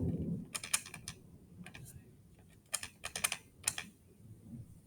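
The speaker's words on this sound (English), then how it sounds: "I'm going to type that into my calculator." Buttons tapped on a calculator while working a physics problem: two quick bursts of light, close clicking keypresses with short pauses between them, no talking.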